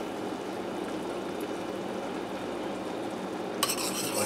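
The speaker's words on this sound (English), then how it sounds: "Go ahead and stir that in together." Butter being stirred into a sizzling steak pan sauce, a steady close-up frying hiss with soft scraping throughout and a brief utensil clink near the end.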